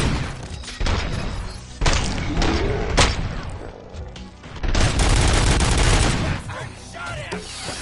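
Close, loud gunfire in the video game Robocop Rogue City: rapid volleys of shots and booming impacts, with several sharp single cracks followed by a dense sustained barrage.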